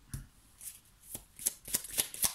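Tarot cards being shuffled by hand for a reading, a string of soft papery flicks that speed up into quicker, crisper riffles toward the end, close and fairly quiet with no talking.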